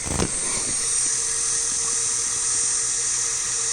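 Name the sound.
Zenbot CNC router spindle spinning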